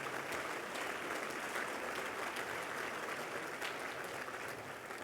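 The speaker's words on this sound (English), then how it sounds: "Let's have a round of applause for all of you for being here tonight." A dinner audience in a banquet hall applauds, a broad, even roll of many hands clapping that holds steady and fairly quiet throughout, with no voices rising above it.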